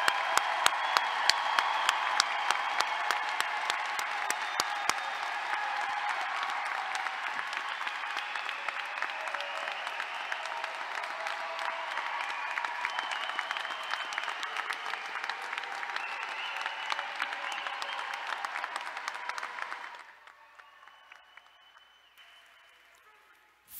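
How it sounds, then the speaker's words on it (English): A large commencement audience applauds the 2022 College of Science and Mathematics graduates: a long, dense, steady roar of clapping that holds for about twenty seconds, then drops off sharply to a few scattered claps. "One more round of applause for all of the graduates of 2022."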